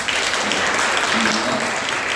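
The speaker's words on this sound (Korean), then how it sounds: "잠깐만 일어나 주시면 박수로 보내겠습니다" Congregation applauding visiting members of another church during a Sunday mission service, a dense steady wash of clapping throughout with a faint voice underneath.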